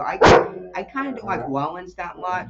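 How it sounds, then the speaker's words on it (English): A dog barks once loudly and nearby at the start, then a person keeps talking over the background. "Sorry, that's my dog."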